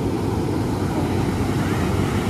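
Sea waves at Liwliwa Beach in Zambales wash in as a steady, broad surf roar mixed with wind buffeting the microphone, loud and continuous without distinct breaks.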